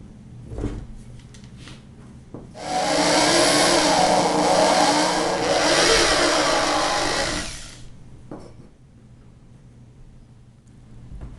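A power drill bores screw holes into workbench wood in one loud, sustained burst of about five seconds, close by, with quieter room noise before and after.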